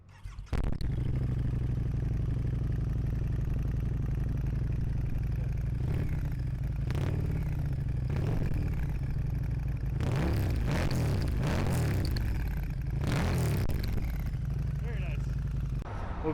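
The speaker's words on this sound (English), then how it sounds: "I'll get a clip of the exhaust." Exhaust of a 2015 Harley-Davidson Night Rod motorcycle idling close by: a steady, loud low-pitched rumble runs the whole time, with several bursts of revving in the latter half.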